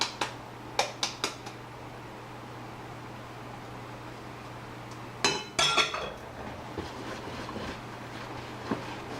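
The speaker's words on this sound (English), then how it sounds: "once that's all mixed, it'll definitely get thicker, a little harder to mix" Banana nut bread batter being mixed in a bowl, faint scattered clinks and taps of a utensil against the bowl over a quiet steady background hum.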